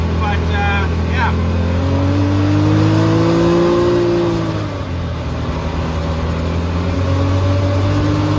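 A Can-Am Maverick X3 Turbo R fitted with a noise-reduction kit drives at speed, a loud, steady turbo engine drone heard from inside the cab, its pitch rising and falling slightly, with a voice talking over it.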